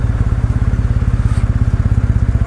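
A Kawasaki W650 motorcycle's engine idles weakly up close, just after delivery. Its low, steady thumping pulse sits alone and loud, with no talk over it.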